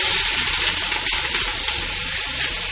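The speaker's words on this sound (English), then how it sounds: "Dump in garlic and onions." Garlic and onions frying in bacon fat in a pan, a steady hiss and crackle of sizzling that fills the clip evenly without speech.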